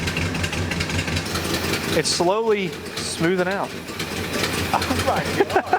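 After sitting for 35 years, a 1971 Plymouth Roadrunner engine runs steadily with a continuous mid-low drone and some rising revs, while people talk excitedly over it.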